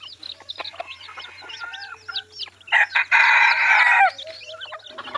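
Several jungle fowl roosters crow one after another at close range, ending in a long, loud crow, with occasional clucking and chirping around them.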